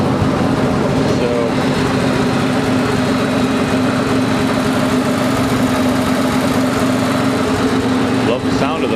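A half-scale tractor's small engine runs steadily and close by with a constant mechanical drone, while voices murmur faintly in the background.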